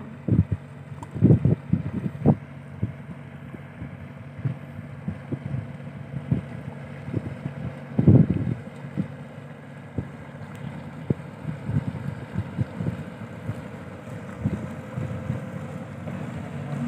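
A fishing boat out on the water during a catch-and-cook trip, a low steady rumble mixed with wind buffeting the microphone and scattered hollow knocks and thumps against the hull, with no talking.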